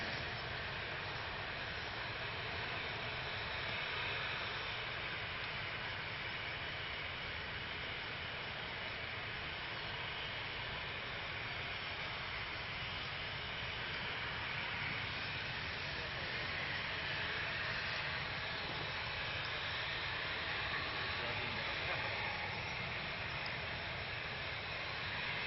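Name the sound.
Emirates Boeing 777 aircraft engines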